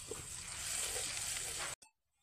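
Masala for egg bhurji, with a little water added, frying steadily in a pan. A loud, continuous sizzle runs for most of the clip with faint stirring scrapes, then cuts off abruptly before one brief final crackle.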